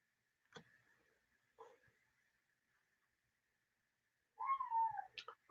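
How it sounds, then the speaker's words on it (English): A house cat meows once, faint and close, in an otherwise quiet indoor room, preceded by a couple of soft clicks and taps. "here's the cat"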